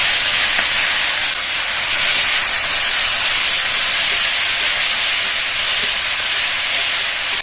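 Ginger and spice paste hitting hot mustard oil left from frying rohu fish for a Bengali fish curry, giving a loud, steady, broadband sizzle that holds continuously throughout with no talk.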